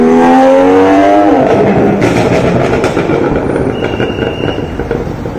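An inline-six car engine revs loud and close, its pitch climbing steeply in the first second before settling into a sustained, rough roar that eases slightly toward the end, with no talking.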